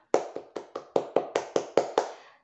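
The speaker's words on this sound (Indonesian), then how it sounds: "boleh kita tepuk tangan dulu untuk kita semua" A class of fifth-grade children claps together in a school classroom: ten crisp, evenly spaced unison claps, close and clear, with no talking.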